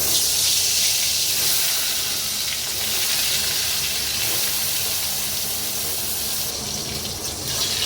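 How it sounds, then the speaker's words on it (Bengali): Continuous hissing sizzle of eggplant frying in hot oil, steady and close throughout, with no voices. "তেল গরম হয়ে গেছে, আমি বেগুনগুলো ভেজে নেব।"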